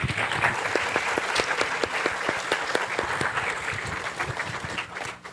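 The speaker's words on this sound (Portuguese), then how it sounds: "Os aplausos aqui para a Fabiana." An audience at a film debate event claps steadily, a dense, loud burst of applause that carries on for several seconds before tapering slightly at the end.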